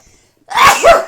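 A single loud, sharp sneeze bursts out after a moment of near silence, close and forceful.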